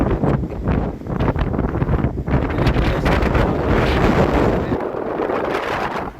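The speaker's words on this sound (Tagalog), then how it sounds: "Maraming hangin." Fierce, continuous typhoon wind roars and batters the microphone, loud and unrelenting throughout with surging gusts and no clear talk.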